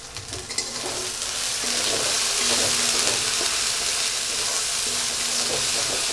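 Spices with turmeric and salt sauté in a pan for an egg curry with taro, giving a continuous close, loud sizzle with soft stirring scrapes throughout.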